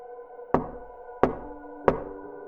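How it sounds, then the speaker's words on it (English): Three loud, evenly spaced knocks with a ringing, hollow tail, each one alone against a quiet background, like a fist rapping on a wall. "and then the knocking started."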